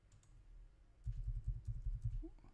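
Fingers tap on a laptop keyboard during a Windows setup, with a quiet start followed by a close, fast run of key clicks that lasts to the end.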